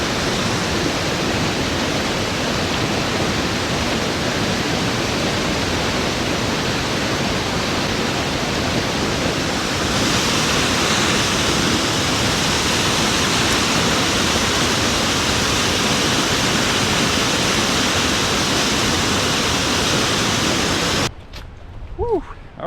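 A mountain creek rushes steadily and loudly, a dense continuous wash of flowing water filling the scene, broken only by a brief quieter moment at the end.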